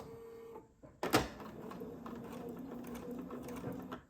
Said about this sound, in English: I'm going to go ahead and sew a couple stitches, straight stitches